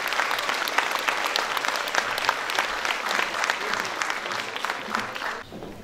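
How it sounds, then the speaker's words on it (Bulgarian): Applause from a school graduation ceremony audience, steady clapping filling the hall for about five seconds before dropping off at the end. "Заслужени аплодисменти,"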